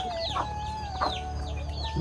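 A hen clucks nearby in a short series of rising, squawky calls over a low background hum.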